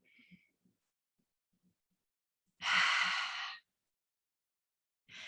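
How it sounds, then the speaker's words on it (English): A person takes a deep calming breath in through the nose and lets it out through the mouth: a faint intake, then a single soft, airy exhale about a second long, with another breath starting at the end. "take a deep breath in through their nose for the count of 3, and then exhale through their mouth"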